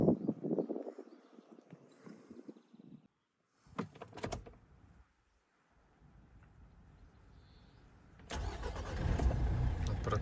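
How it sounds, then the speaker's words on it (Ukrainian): A 2014 Renault Trafic van's 2.0-litre diesel engine cranks, catches and settles into a steady, rumbling idle after a few clunks and a brief quiet stretch; close by, no talking. "зараз я продемонструю роботу мотора"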